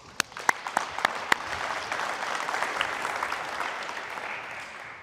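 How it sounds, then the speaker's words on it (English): A group claps for players at a coaching clinic, opening with a few sharp, loud individual claps before settling into steady, moderate applause that carries to the end. "Clap it up for the ladies"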